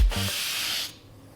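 A single short stroke of an axe blade across a dry whetstone gives a loud, broad abrasive rasp lasting under a second, then fades to quiet.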